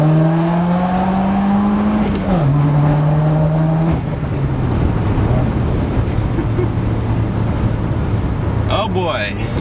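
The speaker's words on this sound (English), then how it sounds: "There's a canyon up here that I have been driving through, and it sounds amazing when I go through it." A pro-tuned 2017 Subaru WRX drives through a canyon. The engine hums steadily and drops pitch through gear changes, with road and wind noise underneath, and someone speaks briefly near the end.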